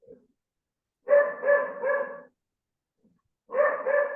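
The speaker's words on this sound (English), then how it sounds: "Why is my dog barking?" A dog barks in two close bursts, a run of three quick barks and then a pair, with silence between and no talk.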